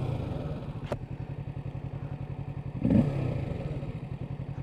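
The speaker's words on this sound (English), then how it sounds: "Sounds quite good on the old rev." A 2020 Kawasaki Ninja 650 engine runs nearby with a steady, even rhythmic pulse that swells briefly near the end as the throttle is blipped. No voices are heard.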